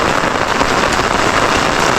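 Steady rain pours down near rice paddies during a heavy downpour, a dense, even hiss of drops hitting surfaces with no pauses or voices.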